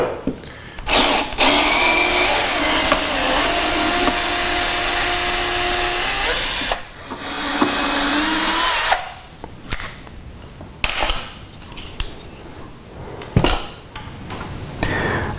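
A power drill runs loud and close in a long sustained whir while removing an old bracket, then stops and is followed by several short bursts and clatters.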